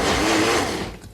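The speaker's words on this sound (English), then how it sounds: "There, my tomatoes and cucumber are chopped perfectly." A KitchenAid Ultra Power blender chops tomatoes and cucumber with a loud, steady motor whir that drops and winds down as it is switched off.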